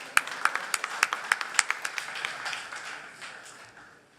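A crowd at a political party's internal election gathering claps in a brief round of applause, individual claps sharp and distinct at first, then thinning and fading out over a few seconds.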